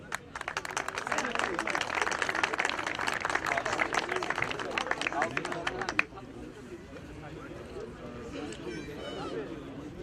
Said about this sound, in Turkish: Kocaman alkışlar sporcularımıza